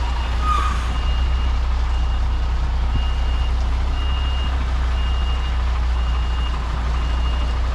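A truck reverses slowly into a loading bay with a steady, evenly spaced beeping alarm over a constant loud diesel engine rumble.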